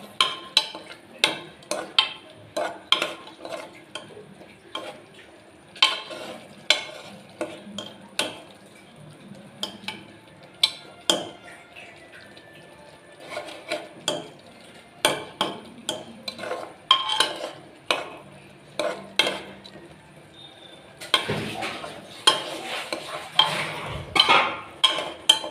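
A spoon stirring tomato gravy in a pan, with repeated scraping clinks against the metal at an irregular rhythm, close and fairly soft, a faint fry underneath and a louder flurry of stirring near the end.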